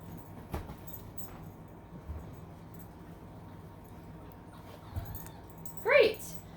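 A dog whimpers and whines indoors, one short high-pitched rising whine near the end after a few faint earlier sounds, under low background voices and room noise.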